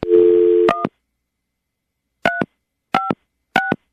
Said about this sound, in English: we're going to dial now, see if he'll answer